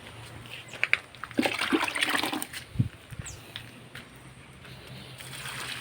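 Watering a rose apple (jambu air) plant by hand after NPK fertilizer, with close trickling and splashing water in brief bursts early on, then a quieter steady flow.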